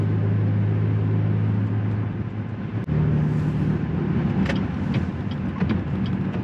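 A car drives along a rain-wet road on a rainy afternoon in Branson, Missouri, with a steady close engine drone and road hiss throughout and no talking.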